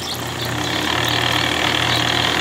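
A small toy blender runs with a steady, loud motor whir and a faint rhythmic pulsing, holding constant throughout with no voices.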